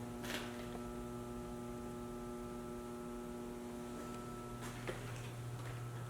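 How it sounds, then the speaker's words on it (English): A powered machine inside an abandoned surgical hospital gives a steady electrical hum, constant and fairly loud, with a couple of faint ticks and no talk. "There's actually power being fed to this machine. You could hear it humming."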